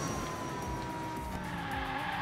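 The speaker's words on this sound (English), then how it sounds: "And do a nice drift through here." A car drifts with a sustained tire skid in the Hot Wheels Unleashed racing game, a continuous squealing hiss over engine drone, loud and steady throughout.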